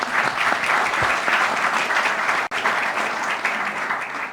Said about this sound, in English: give CapitaLand a big hand of applause